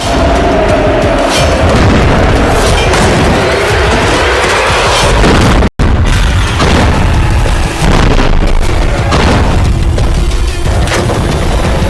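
Two 2000-kilogram bombs exploding in an Israeli strike on Gaza, a loud, sustained roaring blast rumble with a brief break midway, dense and overwhelming throughout.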